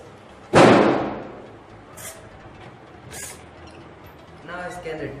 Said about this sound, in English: Now 15 seconds are over, the door will automatically close.